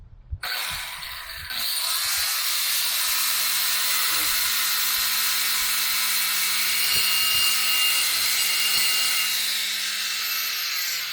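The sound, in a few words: saw blade cutting into bathroom material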